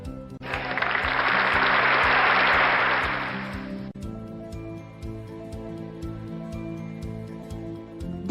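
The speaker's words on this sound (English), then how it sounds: "A huge round of applause for our Chosen Coral." An audience at a volunteer awards ceremony gives a burst of applause, a dense wash of clapping lasting about three and a half seconds over a steady background hum that continues once the clapping stops.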